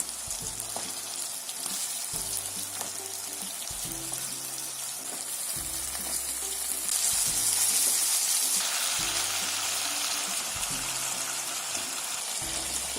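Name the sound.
green chili and tomato sautéing in pan for egg curry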